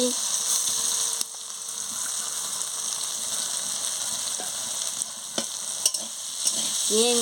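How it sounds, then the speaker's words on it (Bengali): Fried lentils and sugar stirred in a pan for a Bengali chalta chutney, a steady sizzle with scraping spatula strokes and a few sharper clinks near the end, close and without talk. "চিনিটা দিয়ে ভালো করে একটু নাড়িয়ে নিচ্ছি"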